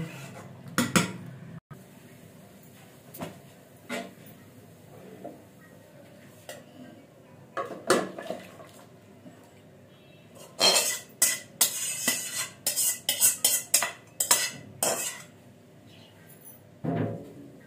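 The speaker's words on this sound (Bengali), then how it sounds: "এবার আমি মাছটা একটা সুন্দর বাটিতে ঢেলে নেব" Rupchanda (pomfret) fish curry with potato and tomato being ladled from a pot into a bowl, heard as scattered clinks and scrapes of utensils against cookware, busier and louder toward the end, with no talk.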